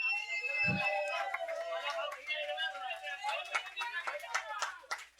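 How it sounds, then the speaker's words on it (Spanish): At a metal concert in Sala Groove, a crowd claps for a band member, with scattered sharp claps mixed with cheering and whistling voices, the clapping growing denser toward the end. "un aplauso también para él"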